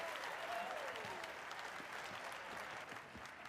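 Audience applause greets a character stepping onto a TV talk-show stage in the 2019 film Joker, a steady wash of clapping from a studio crowd, moderately distant and sustained throughout with a faint tone gliding underneath.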